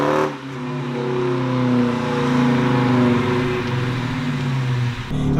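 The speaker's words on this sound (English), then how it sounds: "you definitely do have that nice exhaust note that I'm hearing right now. I mean, these Hemis definitely do sound great." A 2014 Dodge Challenger R/T with a Hemi V8 accelerates, its exhaust rising into a deep, throaty, steadily climbing roar that holds for several seconds, close and loud, then briefly eases at the end.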